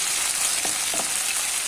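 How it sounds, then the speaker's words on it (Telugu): Ginger garlic paste fries in a curry pan for a dosakaya tomato curry, giving a steady, close broadband sizzle with faint stirring scrapes and no talk. "ఇప్పుడు అల్లం వెల్లుల్లి పేస్ట్ వేసాక కొంచెం ఫ్రై అయిన తర్వాత"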